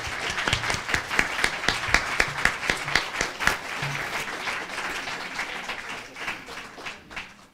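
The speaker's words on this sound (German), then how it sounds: "um einen ganz fetten Applaus." Applause from an audience in a city library after students of the Laborschule Bielefeld are introduced, loud with distinct claps that thin out and fade over several seconds.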